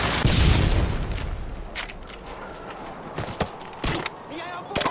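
A Predator missile strike during a Modern Warfare 2 ground-war match on Sub Base opens with a heavy, close boom and rumbling blast that decays, then scattered sharp gunshots and thumps, with a radio voice speaking.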